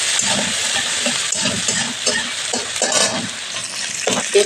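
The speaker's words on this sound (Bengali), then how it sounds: "এবার এগুলোকে ভেজে নেবো" Cumin and chopped tomatoes frying in a pan with a continuous loud sizzle and hiss, broken by scraping stirs of a spatula, close up without speech.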